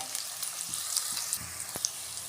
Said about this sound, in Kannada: ಚೆನ್ನಾಗಿ ಫ್ರೈ ಮಾಡ್ಕೊಳ್ಳಿ ಸ್ವಲ್ಪ ಅರಿಶಿನ ಹಾಕ್ತಿದ್ದಾರೆ